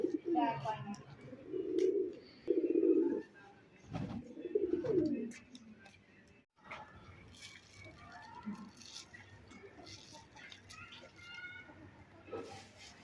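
Soft, low pigeon coos repeat in a steady rhythm nearby in a village mud house, with quiet talking and background rustle.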